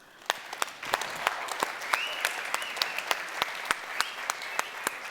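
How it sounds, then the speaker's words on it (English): Summit attendees applaud themselves in thin, scattered clapping, with distinct individual claps popping out at an uneven rhythm over a softer continuous patter. No one speaks. "give yourself a round of applause"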